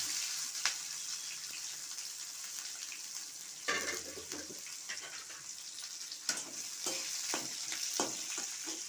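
Chopped onion with whole white cumin and black cumin sizzles in hot oil, a steady close hiss broken by sharp scrapes and clatters of a spatula stirring in the pan.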